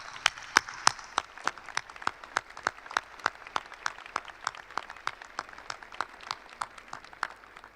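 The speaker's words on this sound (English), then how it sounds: "Let's give them a round of applause." Clapping for the university faculty at a Louisiana State University at Alexandria spring 2021 graduation ceremony, heard as a steady, evenly spaced run of sharp claps, moderately loud, lasting throughout with no talk.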